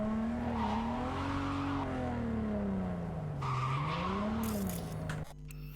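Car in the video game Cyberpunk 2077 skidding as it drives, a loud sustained tire squeal with a wavering pitch over steady engine drone, ending in an abrupt cut near the finish.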